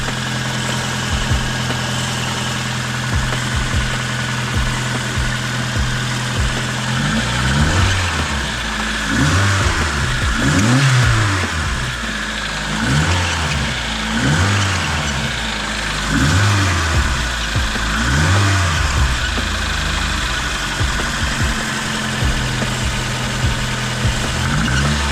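A car engine runs steadily after starting, a daily driver with a flashing battery warning light and a suspected dead alternator, idling with a few rhythmic revs and vibration, close and loud throughout.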